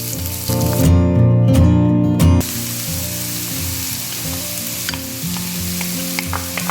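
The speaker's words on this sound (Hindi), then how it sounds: "2 टेबलस्पून ऑयल पोर करेंगे, साथ ही इसमें प्याज ऐड कर देंगे" Chopped onion dropped into two tablespoons of hot oil in a preheated pan: a loud burst of sizzling that fades after a couple of seconds to a steady crackling fry, with light spatula scrapes close by and no talking.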